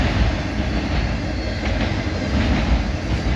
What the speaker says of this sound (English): So this is that train coming back from Casey, South Carolina, and going back up to Cincinnati, Ohio.